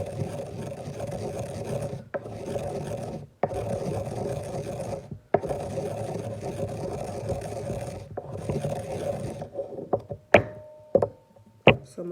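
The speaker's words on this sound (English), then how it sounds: "mix the herbs." Dried herbs and rose petals being mixed by hand in a bowl, dry rustling and rasping scrapes in repeated bursts with short pauses, ending in several sharp knocks and taps, close up.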